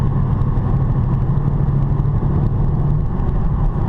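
From inside the cabin, a 2019 Chevrolet Camaro SS with muffler and secondary catalytic converter deleted gives a steady, loud, low exhaust drone while cruising, with no talking.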